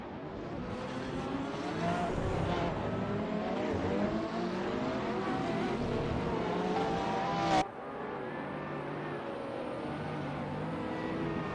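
Hypercars race at Spa in a racing video game, several engines droning and rising in pitch together as they accelerate, loud and steady throughout with no talk.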